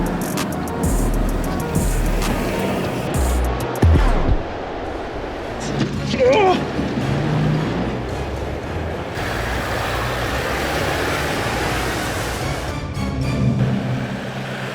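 A Toyota Landcruiser 70 series with a 2.8 turbo diesel engine drives along, giving a steady broadband road and engine rumble throughout, with a brief exclamation from a person.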